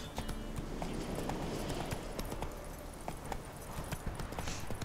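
Horse hooves clip-clop steadily in The Witcher 3, a close, even clatter of hoofbeats with ambient game noise behind them.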